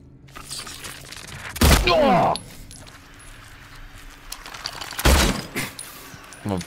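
Two loud, sharp shotgun blasts from the video game Silent Hill 2 Remake, a few seconds apart, each followed by a brief metallic rattle amid quieter game noise.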